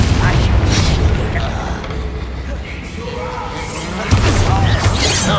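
A Bombarda spell explodes in Hogwarts Legacy, a heavy crashing boom amid loud, dense battle noise, with a second sharp impact bursting near the end and combat clatter throughout.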